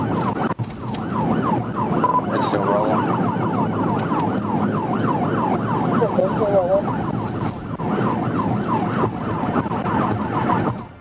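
A police car siren wails in a fast, continuous up-and-down warble during a high-speed highway chase, loud and close, over the hum of traffic.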